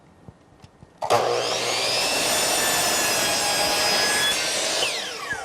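A power saw bites into poplar wood siding with a sudden loud roar that holds steady as a harsh, close whine through the cut, then eases slightly at the end.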